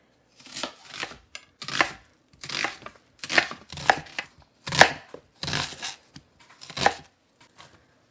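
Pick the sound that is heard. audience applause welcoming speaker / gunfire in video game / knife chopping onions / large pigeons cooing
knife chopping onions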